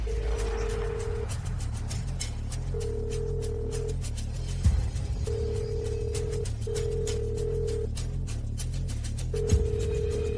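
A telephone rings unanswered in a drama scene, a steady repeating tone in regular bursts over a low background hum, with occasional clicks and thumps.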